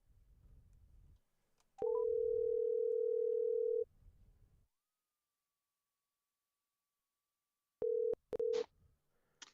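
A telephone dial tone sounds loud and steady for about two seconds while a call to a radio-show guest is placed, followed after a pause by a few short tone bursts.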